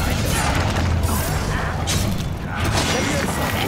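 A Bombarda blasting spell explodes in Hogwarts Legacy, a loud, rumbling burst of crashing noise amid a busy duel soundscape.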